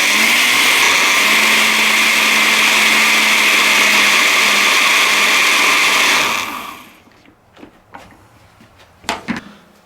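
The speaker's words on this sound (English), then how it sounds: "Now I got room for the rest, so we're going to blend this up." Blender whirring loudly and steadily through mole verde ingredients: chicken bouillon, onion and the rest of the sauce. It runs for about six seconds, then cuts off, leaving quiet kitchen knocks and clatter.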